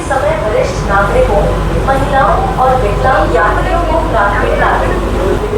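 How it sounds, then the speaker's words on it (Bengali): An AC local train on the Ranaghat–Sealdah line rumbles steadily as it pulls away, with voices chattering throughout over the constant mechanical drone. "তো বন্ধুরা ট্রেন ছেড়ে দিল"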